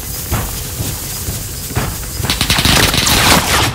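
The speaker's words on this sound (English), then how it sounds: "Someone's shooting at us." Gunfire in Call of Duty Warzone: rapid automatic bursts, moderately close and loud, building into denser sustained fire toward the end.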